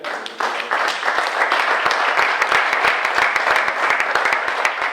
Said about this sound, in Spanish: que el primer aplauso sea para vosotros, para vuestra asociación